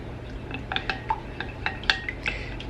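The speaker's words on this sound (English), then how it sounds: "Get this egg broken there." An egg cracked and stirred into butter in a homestead kitchen, with a series of light clinks and taps of utensil against bowl, close and moderately quiet, no talking.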